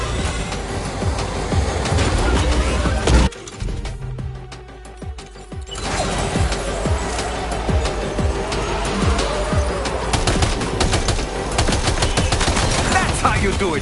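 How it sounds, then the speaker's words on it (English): Gunfire rattles while a vehicle drives in the Death Stranding 2 video game, with dense bursts of rapid shots layered over loud engine and road noise and a short quieter gap partway through. "You should be capable of shooting while driving."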